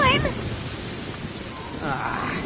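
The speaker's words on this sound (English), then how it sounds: "Uh-oh! Lightning storm!" Rain falls steadily in a lightning storm in the video game Genshin, a continuous loud hiss with a deep rumble of thunder beneath, while a voice speaks over it.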